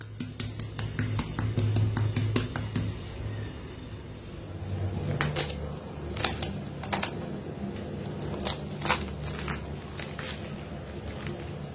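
Crispy fried dal puri is broken and chewed up close, giving a series of sharp dry crackles and crunches in irregular bursts over a low background hum, with no talking.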